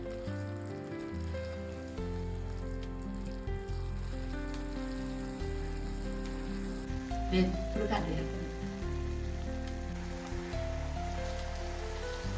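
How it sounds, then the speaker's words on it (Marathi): Desiccated coconut roasting in a pan over a medium gas flame gives off a steady, soft sizzling hiss, with a few scraping stirs near the middle against a constant low background hum. "छान असं खोबरं सुकं होईपर्यंत परतूया"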